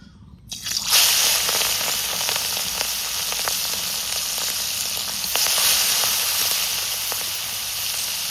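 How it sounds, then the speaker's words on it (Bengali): Shrimp frying in hot mustard oil, a steady close sizzle that starts abruptly as the prawns hit the pan and keeps crackling and spitting evenly throughout, with no talking. "এখন চিংড়ি মাছগুলোকে ভেজে নেব।"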